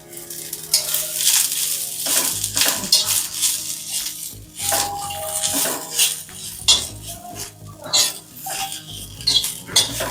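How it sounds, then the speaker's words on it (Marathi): Onion, garlic and ginger pieces sauté in a pan for a mixed-vegetable masala, with repeated metallic clinks and scrapes of a utensil stirring against the pan under a light sizzle. "आपण त्यात थोडे लसूण आणि आल्याचे तुकडे घालणार आहोत आणि आता हे थोडंसं परतून घ्यायचंय परत"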